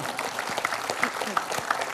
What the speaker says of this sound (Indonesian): Kita beri tepuk tangan untuk Pak Edi